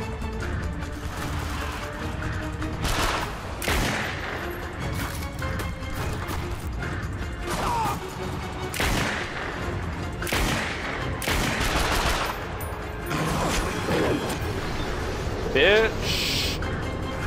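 Rapid bursts of gunfire from the Cobra gun in The Darkness 2 ring out repeatedly amid a loud, dense game soundscape of impacts and crashes, with someone talking over much of it.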